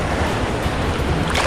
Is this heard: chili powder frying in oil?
no